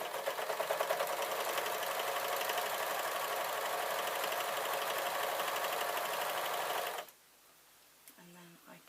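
Sewing machine running continuously for about seven seconds while stitching the waistband of yoga trousers, a close, steady whirring hum that then cuts out to near silence.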